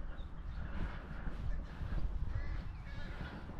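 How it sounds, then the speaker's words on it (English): Crows caw faintly and intermittently in the distance on a farm during a morning among sheep, set against steady low outdoor rumble and background noise. "Crows are making a noise."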